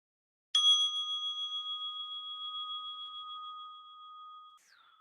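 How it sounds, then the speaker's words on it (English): A single meditation bell strike rings out clear and sustained, its pure tone slowly fading over several seconds before a brief softer tail. "So the bell is an invitation to come back to ordinary awareness"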